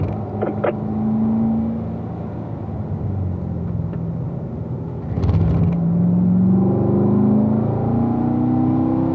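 A car engine at full throttle in a racing video game, a loud droning roar with pitch rising and falling through gear changes and a surge partway through, alone without speech.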